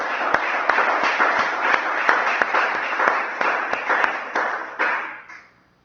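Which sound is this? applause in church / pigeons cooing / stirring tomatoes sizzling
applause in church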